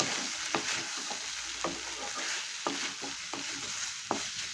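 Pasta mixed with pepper and chilli powder sizzles in a pan while a spoon stirs it, a steady frying hiss punctuated by several sharp knocks and scrapes against the pan, close and uninterrupted by speech.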